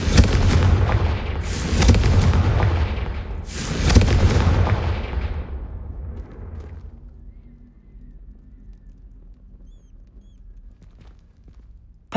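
Confringo fire spell blasts in the Hogwarts Legacy video game: two loud, booming explosive bursts in quick succession, each with a crackling tail, fading into quiet game ambience.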